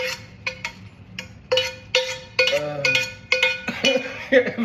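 Metal pots and pans clank and clink on a stovetop as cookware is swapped while ground lamb cooks, a run of sharp, close knocks and rattles arriving in uneven bursts.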